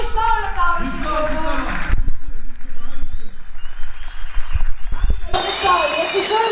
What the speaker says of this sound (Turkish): yakışır bir alkış alalım başkanımıza